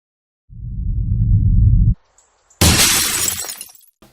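Objects smashed apart with a loud burst of shattering glass, following a low rumbling crash; the sharp, bright glass break hits suddenly and rings out alone before fading.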